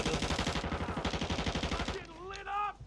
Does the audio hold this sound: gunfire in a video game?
yes